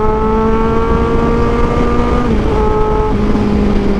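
A 2023 Kawasaki Z1000R motorcycle with a 1043cc engine accelerates hard on a highway, a loud close engine drone rising steadily in pitch, with shifts audible as brief drops before climbing again.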